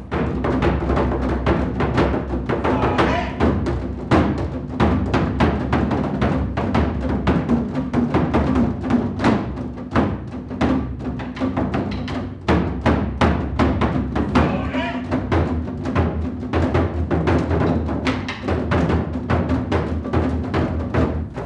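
Taiko drums struck in a dense, steady stream of loud, close hits by a community group, with an almost continuous pounding rhythm throughout.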